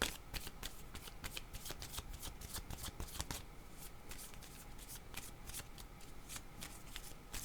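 A tarot deck shuffled by hand nearby, quick repeated papery flicks and riffles in an uneven rhythm, with no voices.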